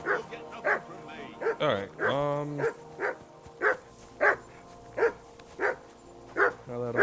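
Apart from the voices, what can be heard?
dog barking in Kingdom Come: Deliverance II video game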